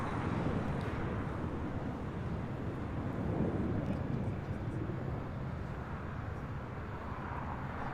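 Boeing 787-8 Dreamliner at LAX, a steady loud broadband roar of jet engines holding constant throughout, rumbling and windy, with no voices.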